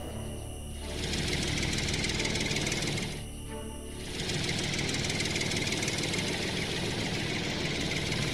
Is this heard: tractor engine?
yes